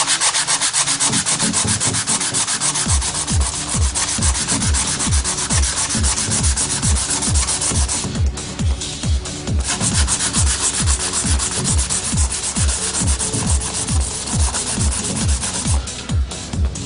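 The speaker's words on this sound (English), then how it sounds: "what we have here is a 400 grit sandpaper, wet and dry, and we'll just quickly rub this on top" Someone rubs 400-grit wet-and-dry sandpaper over a PCB in rapid, even back-and-forth strokes. The steady rhythmic scratching stays close and fairly loud, with no talking.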